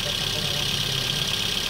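Toyota Vios with a 2NZ engine idling roughly, a steady uneven drone with a hissy upper layer throughout the short stretch, no talk over it.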